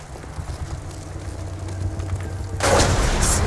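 Gunfire in a World War II combat game, with a low rumbling battle backdrop building up before a loud sharp crack of a sniper shot near the end.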